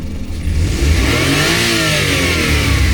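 Suzuki minivan engine fitted with a Power Jet, revving hard and loud close by, rising and holding a strained high-rev drone throughout with no voices.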